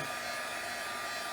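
A hair dryer blows steadily over journal sticker paper, a constant close whooshing hiss with a motor whine, loud and unbroken for the short span.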